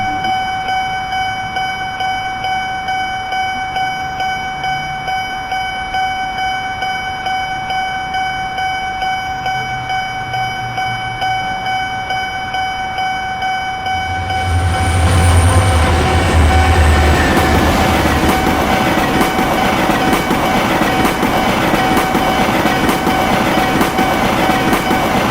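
A train rumbles past a closed level crossing close by, a loud, steady roar building midway and continuing with rhythmic rail noise; a high tone rings through beforehand.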